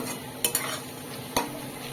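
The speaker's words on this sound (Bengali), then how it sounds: "চানা পনিরের জন্য পনিরটাকে এখানে ছোট্ট ছোট্ট করে ভেজে নিচ্ছে এখানে" Small pieces of paneer fry in a pan for chana paneer, giving a steady sizzle with a few sharp clinks of a utensil against the metal. No voices are heard.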